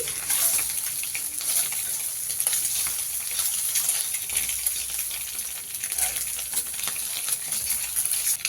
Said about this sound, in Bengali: তো ডিমগুলো আমি এপিঠ ওপিঠ ভেজে নেব।